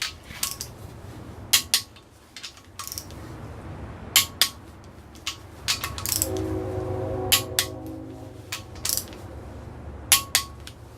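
A torque wrench tightens ARP main studs on a GM 6.5 diesel crank, with sharp metallic clicks and ratcheting in short bursts and a longer grinding ratchet run in the middle, close and clear, with no voices.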